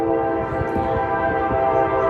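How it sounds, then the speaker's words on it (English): A train rolling into a station at an outdoor rally, loud and close, with a sustained horn chord droning steadily over the rumble and rattle of wheels and cars. "The train is really loud"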